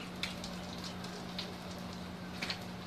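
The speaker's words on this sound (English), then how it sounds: "Now it will continue to rain here" Rain falling outside on clean windows and frames, a faint steady patter with a few slightly louder drips scattered through, under a low constant hum.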